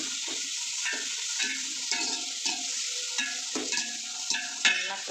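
Tomatoes fry and are stirred in a pot for hotel-style biryani: a constant sizzle underneath, with a spoon scraping the pot in regular strokes about twice a second, close and moderately loud.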